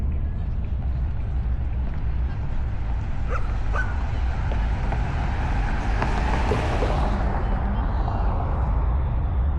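A dog barks repeatedly along a Dallas sidewalk, set against loud, steady street noise and passing traffic that partly masks the barking.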